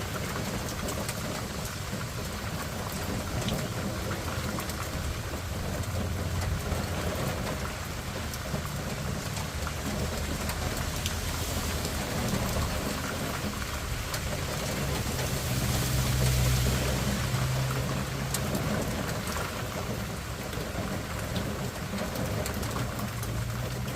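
Heavy rain pours down in a steady, dense hiss that stays loud and even throughout, with a slight swell partway through and no voices.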